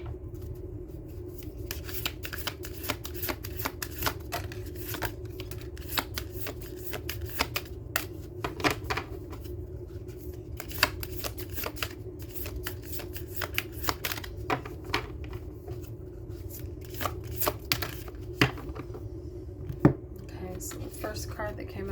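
Oracle cards shuffled by hand in a steady run of soft riffling slaps and rubs over a low hum, continuing for the whole stretch with no one speaking.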